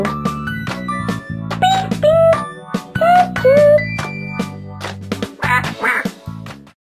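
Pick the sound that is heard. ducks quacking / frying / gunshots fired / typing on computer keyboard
ducks quacking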